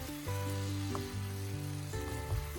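Chard salad seasoned with cumin sizzles softly in a pan as it is stirred, a quiet steady frying hiss with a few faint scrapes, close and low in level, with no talking.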